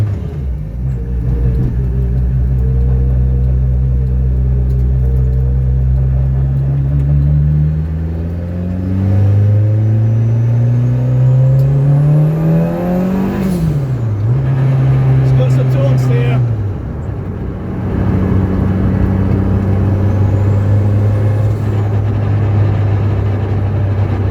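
A modified 330+ bhp Citroen Saxo VTS Turbo hatchback engine drones close by, revving up and down through the gears with rising and falling pitch, steady and loud throughout.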